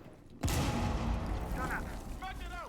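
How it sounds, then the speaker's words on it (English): A frag grenade in a competitive video game match bursts with a sudden loud boom that rolls into a sustained rumble, while a commentator's voice carries over the tail of the blast. "Frag grenade out."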